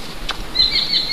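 A brief whoosh of large wings beating the air, a couple of soft flaps close by over quiet background.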